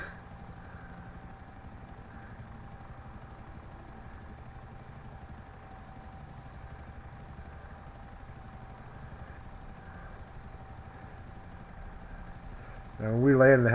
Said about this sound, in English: Now when we land the heli right here